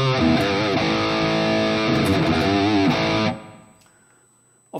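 Heavily distorted electric guitar chugs loudly with thick high-gain tone, like a 6505 amp, from a Valeton GP-200 modeling unit, for about three seconds, then cuts off and rings out into near silence.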